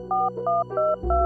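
A phone call is placed with four short touch-tone beeps in an even, quick rhythm. The tones are close and clear over a low background hum.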